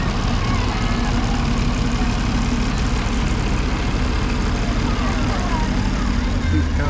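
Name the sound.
vintage Oliver 99 tractor engine running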